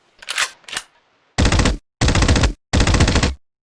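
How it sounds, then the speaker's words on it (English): Submachine gun fire from the video game Red Faction: two short, sharp bursts, then three longer, loud, sustained automatic bursts with brief gaps between them. "I especially like the submachine gun, which has two fire modes"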